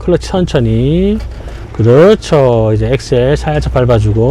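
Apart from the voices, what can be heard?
No everyday noises stand out.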